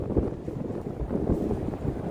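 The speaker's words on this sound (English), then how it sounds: "I'm gonna go check out the Horseshoe Falls, but I'm a little worried about the wind because this is what I mean." Strong gusty wind buffets the microphone near Niagara Falls' Horseshoe Falls, a continuous loud low rumble that surges and dips for the whole stretch, with no voices over it.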